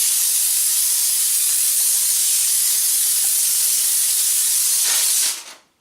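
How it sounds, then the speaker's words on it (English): A Comforday handheld steam cleaner blasts steam in one steady, loud, close hiss that runs without a break and then cuts off sharply at the end, with no talking. "All I do now is push the button. Yeah, can you see that? Steam coming out"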